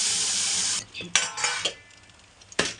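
Water poured into a pan of hot frying masala for Sindhi kadhi, a loud broadband sizzle that cuts off abruptly, then scattered stirring and clinks of a utensil against the pan, with a final burst of hiss.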